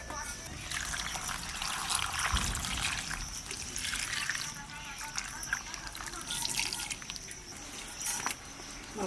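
Water trickles and splashes steadily as snake gourd pieces are rinsed by hand in a kitchen, with a voice talking over the running water.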